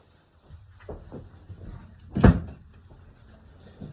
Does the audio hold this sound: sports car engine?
no